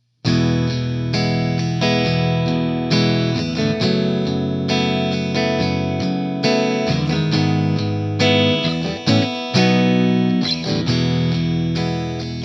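A distorted electric guitar plays loud chord hits in a choppy rhythm with brief gaps between them. The tone is thick and heavily effected.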